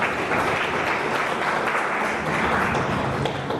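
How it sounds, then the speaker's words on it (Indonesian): An audience at a youth seminar on government programs applauds, many hands clapping in a dense, steady, fairly loud roar throughout. "Sekali lagi kita kasih aplaus untuk Pak Dr."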